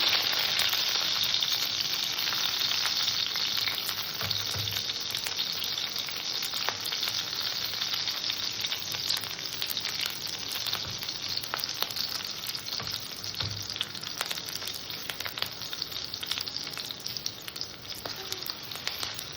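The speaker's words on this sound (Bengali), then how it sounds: "আমার ফোড়নটা ভাজা হয়ে গেছে" Mustard seeds and green chili tempering sizzle and crackle in a small amount of hot oil, a steady close frying hiss with scattered pops running throughout, no voices.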